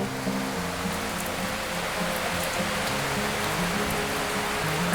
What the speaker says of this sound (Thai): ฝนตกขนาดนี้ พายุเริ่มเข้าแล้ว